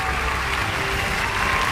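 Dense, even audience applause fills a hall after a musical stage performance, a steady roar of clapping throughout.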